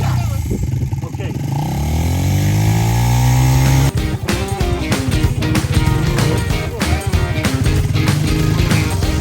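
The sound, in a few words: motorbike engine while riding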